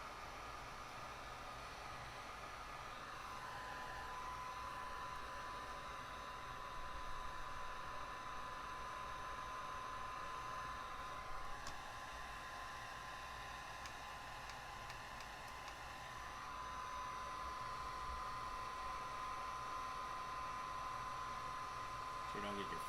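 A heat gun runs steadily as it shrinks heat shrink tubing tight around a wire for an onboard charging hookup, a continuous blowing hiss with a faint whine that holds for the whole stretch, with some talk in the background.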